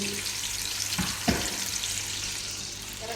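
Fish frying in a pan for fish biryani, a steady close sizzle and crackle of hot oil, with a couple of brief stirring scrapes partway through.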